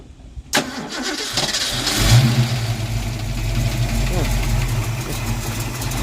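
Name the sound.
Ford Mustang engine starting and running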